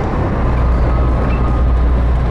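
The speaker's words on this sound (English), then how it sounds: "Watch out for them trains." Train rolling past in the video game Unturned, a loud steady low rumble of wheels and engine filling the whole moment with no break and no voices.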